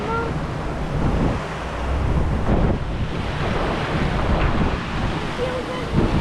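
River rapids churning in a big whirlpool at an amusement park ride, a loud, continuous rushing wash of water heard up close, buffeted by wind noise.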